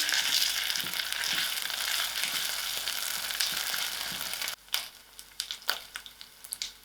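Ginger and garlic sizzle loudly in hot oil for several seconds, then the hiss drops as a spoon stirs the pan with scraping clatters.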